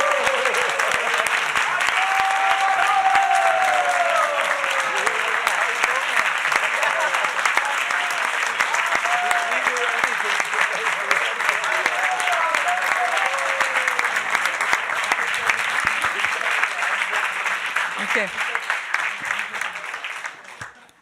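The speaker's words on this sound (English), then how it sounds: "let's maybe just clap to each other and really look each other in the eyes and with gratitude thank each other" A group in a retreat class claps together in thanks, sustained dense applause that carries on for about twenty seconds before thinning out at the end.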